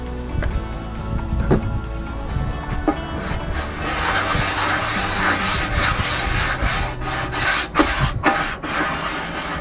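A metal scraper working across a Blackstone griddle slicked with olive oil, rough rasping strokes repeating in an uneven rhythm, close and moderately loud, with no talk.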